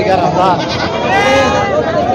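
Goats bleating at a goat market in Parbhani, Maharashtra, a loud close wavering bleat, then a second longer cry, over a dense crowded background.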